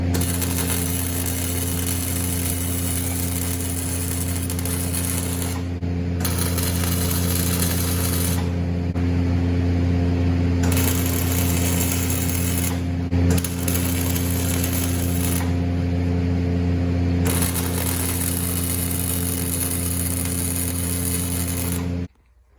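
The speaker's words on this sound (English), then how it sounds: "And now I'm going to go ahead and weld this one." Steel bars are welded onto a motorcycle hardtail frame, a steady loud buzzing hum with crackle that runs in several long passes broken by brief pauses, then cuts off at the end.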